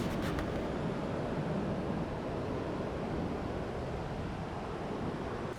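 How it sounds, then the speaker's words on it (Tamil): Water pours from small waterfalls at Aruvikarai in Kanyakumari, Tamil Nadu, making a steady, loud, broadband rush with no pauses. "இந்த அருவிலேருந்து வர தண்ணி ரொம்ப சத்தமாக கேட்கும் உங்களுக்கு"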